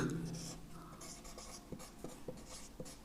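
Soft scratchy strokes of writing on a board during a physics lesson, faint and steady, with a few sharper taps as letters are formed and no talk over it.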